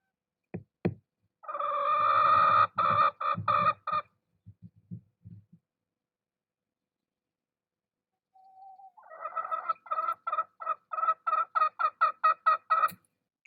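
A head hen in a chicken coop gives a loud, rhythmic series of clucking calls in two bursts separated by a few seconds of near silence, with a few soft knocks between.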